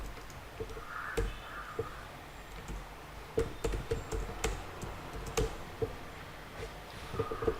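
Keys clatter on a computer keyboard as code is typed, with irregular bursts of close clicks and sharper taps across several seconds, and faint room sound between them.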